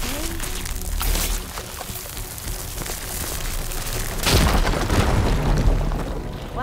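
A firegleam explosion in Horizon Forbidden West bursts with a loud, close boom partway through, followed by a rumbling, crackling roar that lingers over the steady game ambience.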